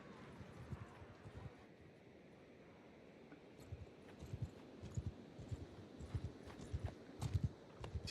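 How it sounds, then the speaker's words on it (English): Horse hooves clip-clop steadily in the video game Mount & Blade II: Bannerlord with the Old Realms mod, a rhythmic trotting that grows louder and busier, alongside light wind noise. "We got a horse? Yeah, we got one horse."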